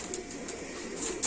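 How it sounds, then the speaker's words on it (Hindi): A pigeon coos softly close by, a low, faint, rolling murmur with no voices over it. "ये मैं एक कबूतर आपको दिखा रहा हूँ"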